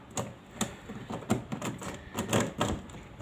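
YJ YuHu Megaminx being turned rapidly with corner cutting, a quick run of crisp plastic clicks and clacks, close and fairly loud, with no talking.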